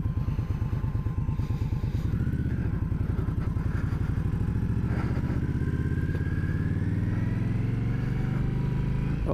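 A motorcycle rides out onto the road, its engine thumping loud and close at a steady rhythm as it pulls away and gradually rises in pitch while accelerating.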